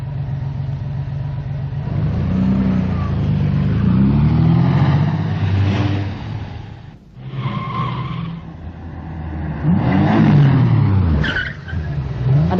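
A car in a 1986 film drives off and swings around in a turn, the engine revving hard and the tires squealing repeatedly at close range across several surges.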